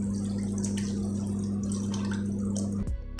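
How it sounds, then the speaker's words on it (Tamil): Water pours into a pressure cooker holding about three-quarters of a kilo of mutton for a village-style curry, a loud continuous splashing over a steady low hum that cuts off near the end. "மட்டன் வேக வைக்கிறதுக்கு ஒரு 1 லிட்டர் தண்ணி ஆட் பண்ணிக்கலாம்."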